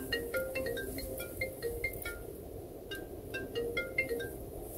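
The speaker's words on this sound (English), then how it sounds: "Phone call." A phone ringtone plays for an incoming call inside a car, a bright repeating melody of short electronic notes in bursts over a low hum of cabin noise.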